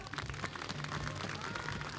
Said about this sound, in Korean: 여러분 큰 박수 한번 보내주시겠어요?